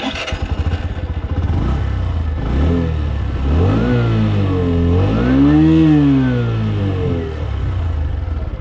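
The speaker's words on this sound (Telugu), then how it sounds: "ఈ వెహికల్ ఇప్పుడు నేను రైడ్ చేస్తున్నాను." A 2024 Bajaj Platina 100 motorcycle is ridden, its small engine humming steadily and loudly close by, rising and falling in pitch as the throttle is opened and eased off, with no talk.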